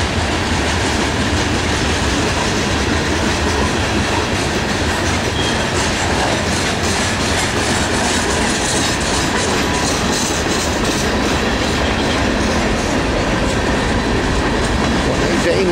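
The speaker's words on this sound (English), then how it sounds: "was a long train today" Norfolk Southern 118 manifest freight train passing close by, a loud, sustained roar of rolling cars with rhythmic wheel clatter and occasional faint squeal, steady for the whole stretch.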